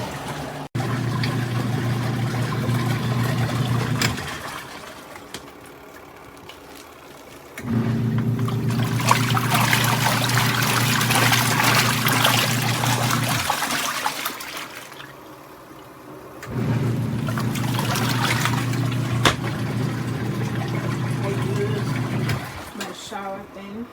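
Water draining from a Costway twin tub portable washing machine, a steady rushing flow that runs for several seconds, stops, then starts again twice more, each run with a low hum beneath it.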